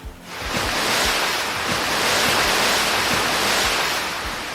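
Ocean surf breaks in a steady, loud, wind-blown roar that swells and holds for several seconds, with soft low thuds beneath and no voices.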